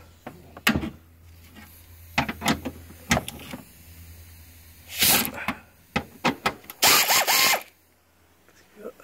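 A pneumatic impact wrench removes bolts from the EGR valve on a Renault Scénic 2 130 hp engine, firing in short, sharp bursts with pauses between them, close and loud, followed by a longer rattling run near the end.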